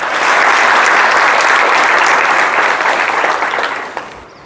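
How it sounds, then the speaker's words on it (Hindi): An audience in a school gathering gives loud, sustained applause for their teachers, a dense wash of clapping that holds steady and then fades near the end. "इन सब टीचर्स की जो आपके ऊपर मेहनत करते हैं, इन सब के लिए एक बार जोरदार तालियां सब बजाएं"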